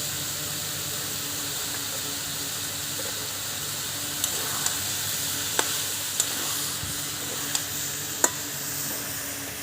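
Dried red chillies and cumin sizzle in a pan of hot oil during village-style home cooking, a steady close hiss broken by a few sharp pops and crackles.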